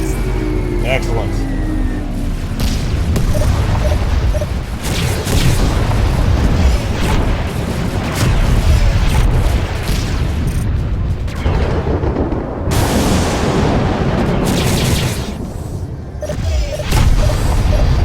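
Deep booming explosions from a space combat video game, with a steady rumbling wall of blasts and rolling thunder that keeps going and swells at moments. Loud and dense.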